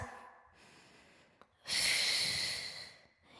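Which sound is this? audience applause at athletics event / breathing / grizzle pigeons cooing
breathing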